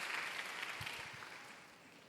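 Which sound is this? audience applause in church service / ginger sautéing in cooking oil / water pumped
audience applause in church service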